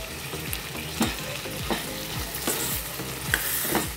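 Stuffed brinjals fry in oil over medium-high gas, giving a steady close sizzle with spatula scrapes and stirring knocks throughout, no voices.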